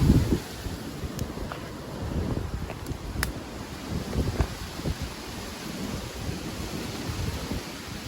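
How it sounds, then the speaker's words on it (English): Strong wind from Storm Dudley buffets the microphone in heavy low rumbling gusts, loud and steady with no voices. "The wind's really picking up now."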